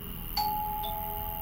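A two-tone doorbell chime rings once at a neighbour's door in an indie horror game, a clear ding followed by a lower dong, set against a quiet background hum with no talk.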